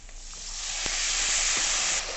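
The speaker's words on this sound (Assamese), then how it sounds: "অকণমান পানী দি পেলাই অকণমান ভাজিব লাগিব।" Chili, mixed spice and turmeric sizzle in a pan after a splash of water while frying for a taro-leaf curry, a steady close hiss that swells and holds with a few faint clinks.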